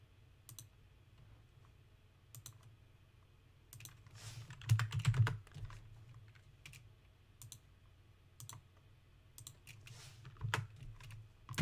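Computer keyboard keys pressed in a quiet room while working in Fusion 360 CAD software, a few scattered clicks with a denser burst of typing near the middle, close and fairly soft over a low hum.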